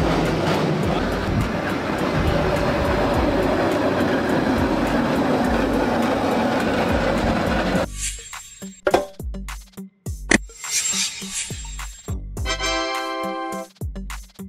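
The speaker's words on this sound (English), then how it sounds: "Streetcar. The friendly city train." A small city streetcar runs along a track shared with road traffic, giving a steady rolling rumble for about eight seconds, followed by a series of sharp, irregular clunks and clicks.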